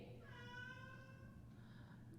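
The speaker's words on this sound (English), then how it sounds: "That's my cat." A pet cat meows in a drawn-out, rising and falling call lasting over a second, heard fairly clearly indoors over a low background hum, followed by a fainter second mew.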